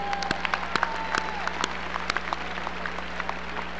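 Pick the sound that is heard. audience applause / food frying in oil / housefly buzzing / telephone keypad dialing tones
audience applause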